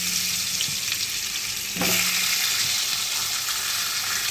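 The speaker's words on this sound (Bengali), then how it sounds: "এই তেলেই গরম মশলাটা ফোড়ন দিয়ে দেবো, আলুগুলো ভেজে নেবো।" Potatoes fry in hot oil seasoned with garam masala, a steady loud sizzle throughout that grows denser when more food goes into the pan partway through, with no voices.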